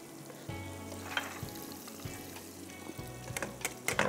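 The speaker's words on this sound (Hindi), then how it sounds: "इसमें हम डालेंगे कुटावा लहसुन 1 tablespoon" Crushed garlic frying in hot oil gives a steady close sizzle with a low bubbling undertone and a few light clinks near the end, no one talking.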